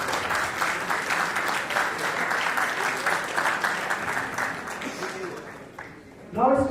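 Sustained audience applause fills a conference hall at an international scientific conference, steady dense clapping from a large crowd that carries on for several seconds before a louder burst near the end.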